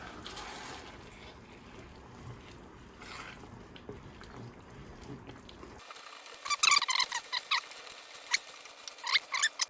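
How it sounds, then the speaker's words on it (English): A simmering pan of meat mixture for shepherd's pie being deglazed with a wooden spoon: soft bubbling and scraping at first, then a sudden change to sharper wet pops and spattering clicks close by. "Now we're gonna start deglazing with our wooden spoon."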